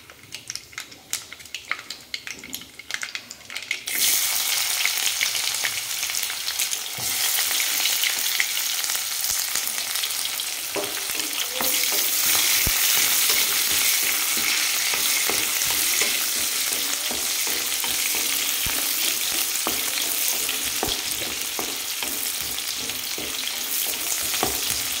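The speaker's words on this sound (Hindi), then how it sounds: "तो जैसे ये एक बार कड़क जाएगा तड़का देन हम इसमें प्याज डाल देंगे।" Tempering spices for tadka crackle and fry in a hot pan before onions go in; a quiet start gives way to a loud, continuous close sizzle with occasional stirring scrapes.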